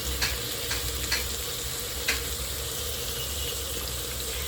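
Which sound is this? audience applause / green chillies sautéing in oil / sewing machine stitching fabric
green chillies sautéing in oil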